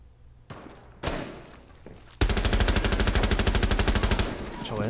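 Automatic gunfire in the video game Rainbow Six Siege: a few isolated shots and thuds, then a loud, sustained rapid burst of evenly spaced rounds lasting about two seconds.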